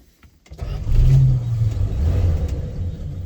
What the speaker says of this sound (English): Whole thing fires right up.